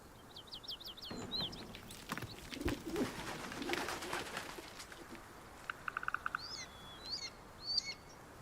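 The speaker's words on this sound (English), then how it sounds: "Maybe it was the birds." Birds coo and chirp in the outdoor ambience of the Baldur's Gate video game: soft pigeon-like coos and bright tweets over a steady background hiss, with no talking.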